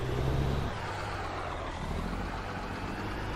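A heavy truck in American Truck Simulator rumbles low and steady while backing up into a parking spot, with a brief air-brake hiss near the start and a continuous engine drone throughout.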